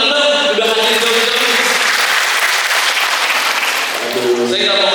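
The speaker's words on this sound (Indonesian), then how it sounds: "Tepuk tangan dulu dong, udah hadir jauh-jauh." An audience at a small-business marketing training event in Tanggamus bursts into sustained, dense applause that carries loudly through the whole stretch, with a voice over it at the edges.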